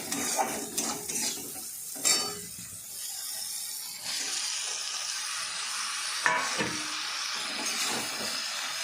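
Taro stolons fry in spices, with a crackling sizzle under scraping, clattering stirring strokes of a utensil against the pan, coming in irregular bursts close up with no talking.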